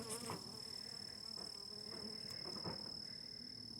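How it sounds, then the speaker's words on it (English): Faint, steady buzzing from a bee emerging at a beehive, with a constant high whine throughout and a few soft ticks and rustles behind it. "There is a bee emerging right there."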